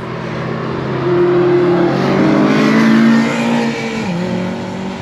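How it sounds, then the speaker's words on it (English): A race car engine roars past nearby, rising to a loud whine and then dropping sharply in pitch as it speeds away. "Got a Lamborghini coming through."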